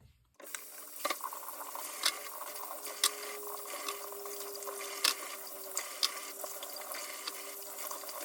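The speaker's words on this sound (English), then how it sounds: "What I'm going to do now, guys, is give them a rinse" Coconut pieces rinsed under steady running tap water filling a sink or bowl, with several sharp clinks and knocks of the pieces against the container over the constant flow.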